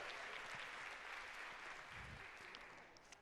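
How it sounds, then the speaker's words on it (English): A conference audience at the NIO Summit 2024 gives a steady round of applause, a dense wash of many hands clapping that holds evenly and then tapers off slightly at the end. "Give her a big round of applause for helping out with that silly nonsense."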